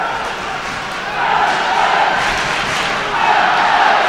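A hockey arena crowd cheers for the Panthers during an NHL game against the Flyers, a loud continuous roar that swells louder partway through and again near the end.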